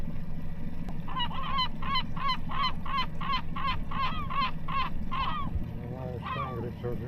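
Out on the sea during summer fishing, gulls give a rapid series of about a dozen rhythmic, honking calls, fairly close. They sound over a constant background of wind and water, then trail off into a few scattered cries.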